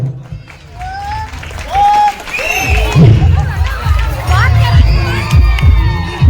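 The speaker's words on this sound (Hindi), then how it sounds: "करते हुए जो समस्त दर्शक दीर्घाओं से जोरदार ताली चाहूं।" Spectators at an outdoor festival game in a Chhattisgarh village clap and cheer loudly, with children shouting and voices rising over the noisy crowd throughout.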